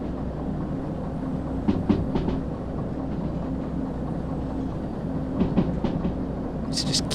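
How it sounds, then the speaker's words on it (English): A train in the Derail Valley simulator slows toward a junction, its low steady rumble rolling along with periodic clickety-clack from the wheels on rail joints and a brief high squeal near the end. "So just keep slowing the train down"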